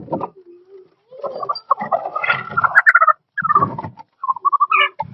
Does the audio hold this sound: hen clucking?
yes